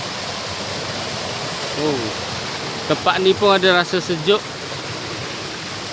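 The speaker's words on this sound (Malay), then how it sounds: "Ini anak sungai yang mengalir, airnya jernih." A small, clear stream in Kinabalu Park flows with a steady broadband rush throughout, with a person speaking briefly over the water partway through.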